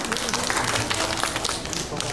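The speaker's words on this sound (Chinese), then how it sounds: "好，那大家给他一点掌声。" An audience at a guitar club gathering clapping, a dense, even patter of applause that runs throughout with voices mixed in.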